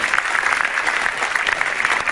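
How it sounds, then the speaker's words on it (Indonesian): Steady, dense applause from a live audience at a televised stand-up comedy show, sustained and fairly loud for the whole moment without a break. "Tepuk tangan buat komik-komik kita yang luar biasa."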